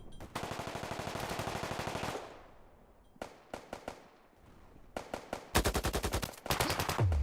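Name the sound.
gunfire in the video game Deep Rock Galactic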